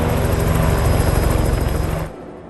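Helicopter descending over an active volcano, a loud, steady rotor and engine roar with rapid blade chop that holds close and strong, then drops sharply in level near the end.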